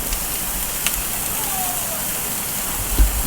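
Filet mignon sizzles on a grill with a steady crackling hiss, close and constant, broken by a few small pops.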